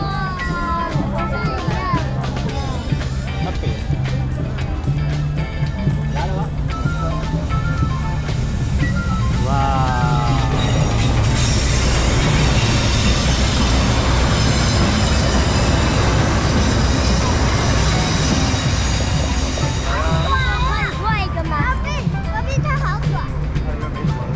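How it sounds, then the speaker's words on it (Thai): A train rumbles past close by along a flower-lined road in Ershui, Taiwan, with loud wheel squeal and metallic screeching rising in the middle, while people talk over the noise. "ในที่สุดรถไฟก็มาแล้วนะครับ"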